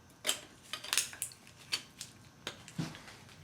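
A metal bleeder wrench is handled during ABS brake bleeding and fluid replacement on a Honda Accord or Civic. It gives about a dozen light, sharp metallic clinks and taps, close and fairly quiet, in an irregular rhythm with no talking.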